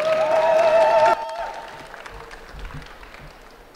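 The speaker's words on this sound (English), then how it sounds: "Can we have a round of applause, please?" An audience at a student election hustings applauds, with a diffuse, moderate spread of clapping that fades gradually after a short stretch of a voice speaking at the start.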